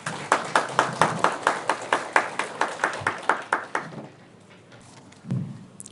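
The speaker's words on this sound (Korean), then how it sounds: "큰 박수로 맞이해 주시기 바랍니다" Audience applause welcoming a speaker at a seminar hall event: a run of clear, evenly spaced claps for about four seconds, then quiet with a faint thump.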